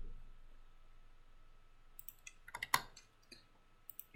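Faint clicks of keys and a mouse on a computer while saving a Blender render, with the F3 key pressed along the top row: a few isolated soft taps, then one sharper click, in a quiet room.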